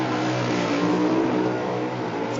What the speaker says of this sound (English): It's got that real throaty sound about it.